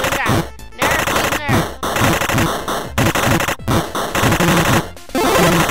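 Automatic machine gun fire in the video game Super Amazing Wagon Adventure comes in loud, dense, rapid bursts separated by brief gaps, with harsh, noisy, chaotic game effects layered throughout.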